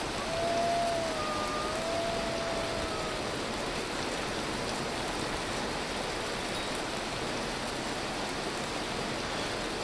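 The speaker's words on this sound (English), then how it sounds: "Oh god, it's so loud and it's hailing here too." Loud hailstorm in the survival game Vintage Story, a dense, steady roar of pelting ice and rain that fills the whole stretch without letup, with faint whistling tones drifting in early on.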